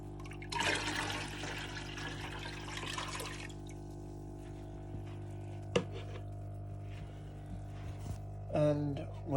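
Water pours into jugs being filled for culturing daphnia as live food for betta fry: a steady, close splashing gush for about three seconds, then low room hum with a sharp knock and a brief clatter.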